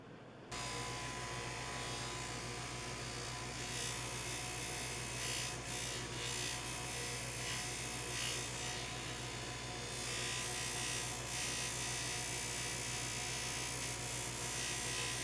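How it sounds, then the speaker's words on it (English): Buffing machine running steadily through a moderate polish of a metal sling buckle, a continuous loud motor buzz with a strong low hum, its pitch and load shifting slightly as the piece is pressed against the wheel. "Then the outer faces get sanded and the whole thing gets moderate buffing."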